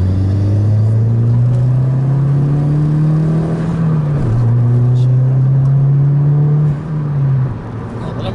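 A Mitsubishi Colt CZT turbo car engine pulls hard through rising revs, dips at a gear change, then climbs again, loud and close from inside the cabin.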